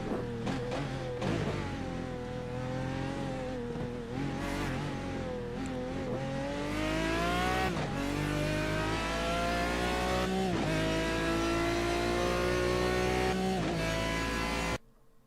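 A Chevrolet Corvette C6R race car in the Gran Turismo video game at Suzuka roars loudly and continuously, its revs rising and dropping through gear shifts with no talking over it.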